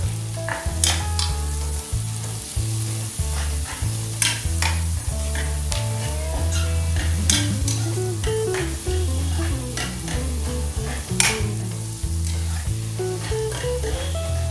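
Small onions sizzle and crackle in a hot pan for chicken curry while a utensil repeatedly stirs and scrapes, steady frying noise throughout with no talking.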